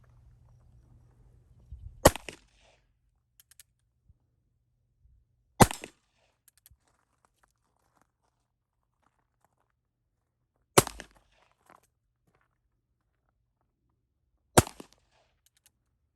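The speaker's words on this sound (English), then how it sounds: "we just saw me fire the gun." Old six-shooter revolver fired four times outdoors, each shot a sharp, loud crack separated by several seconds of quiet, with faint echo after each report.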